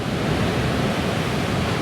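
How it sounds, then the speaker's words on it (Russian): Stormy sea surf breaking on the shore at Simeiz in Crimea during a hurricane-force wind, a steady loud broadband roar of waves mixed with wind buffeting the microphone, continuous with no voices. "Ой, там такие волны, пойду туда дальше."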